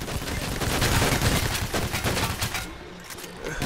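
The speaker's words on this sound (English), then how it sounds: "Look at me shooting him." Sustained bursts of automatic gunfire from the heist shooter game Payday: The Heist, loud and continuous with rapid cracks layered over one another, thinning toward the end.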